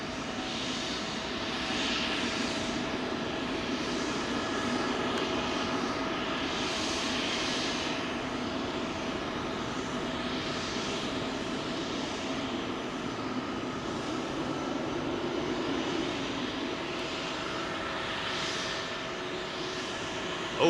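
An Icelandair jet departing Heathrow runway 27L roars at a distance, a steady engine rumble with a thin whine and rising and falling swells across about twenty seconds, with no talking.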